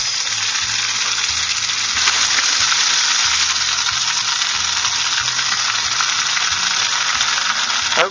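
Potato balls deep frying in hot oil, a steady dense sizzle and crackle that holds loud and close throughout with no voices.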